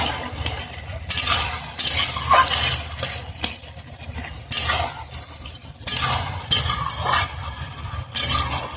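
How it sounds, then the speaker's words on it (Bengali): A spatula stirs fish in a pan for a Bengali fish recipe, making repeated loud scraping and sizzling bursts in steady sweeps with short pauses between them. "একটা মাছ এইভাবে মিশিয়ে দেবো। মাছটা এইভাবে মিশিয়ে গেলে ভালো লাগবে।"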